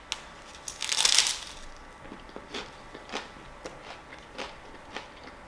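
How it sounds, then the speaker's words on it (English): Crunchy bites into a corn thin topped with peanut butter, ham and egg white, close up, with a loud burst early on and then a series of sharper crunch and chew clicks at irregular intervals. "and then you get a beautiful crunch."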